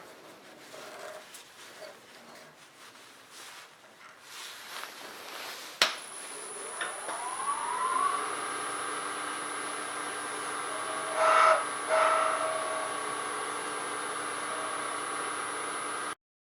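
A wood lathe spins a pen blank during turning, starting as a soft rushing hum, then rising after a click into a steady, louder whine with a brief surge near the end, with no voices.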